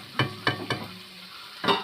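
Kerala-style egg roast masala is stirred in a pan, with a few sharp scraping knocks of the spoon in uneven rhythm and a light sizzle between them, close and clear.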